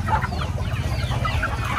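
Native chickens and young chicks on a small Filipino poultry farm cluck and chatter continuously in the foreground, several birds at once with overlapping soft calls.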